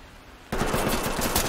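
Sudden close burst of rapid automatic gunfire in the tactical shooter Ready or Not, a dense fast string of shots cutting in after a quiet moment.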